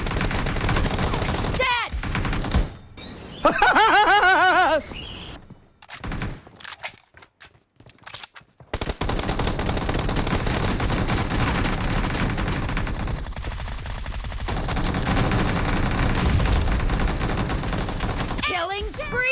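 Bursts of automatic gunfire crackle through a PUBG team deathmatch, loud rapid volleys broken by brief gaps, with a voice shouting over the shots and game voice callouts near the start and end.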